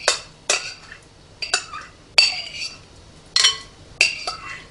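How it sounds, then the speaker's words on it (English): Sweet potato pie filling is stirred together in a bowl, with a utensil clinking and knocking against the sides in irregular, crisp strikes, close and fairly loud. "I'm just going to go through getting this all in and getting it all mixed up together"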